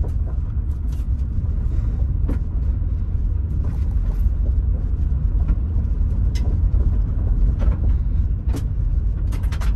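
A 2021 Toyota Sequoia TRD Pro rolls along a dirt trail, its engine giving a steady low rumble with road noise and occasional clicks and knocks from the rough ground.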